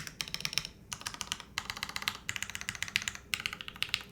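Mechanical keyboard on a compact ergonomic board being typed on, including the F keys, giving crisp rapid clacks in three quick bursts separated by short pauses, close and fairly quiet with no talk.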